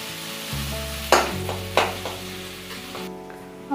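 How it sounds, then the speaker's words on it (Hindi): Chopped onion hitting hot oil in a pan for a raw banana curry, a close steady sizzle with a few sharp scrape-and-stir clatters of a spoon against the pan. "हमारा तेल गरम हो चुका है, ये एक हमने प्याज डाल दी।"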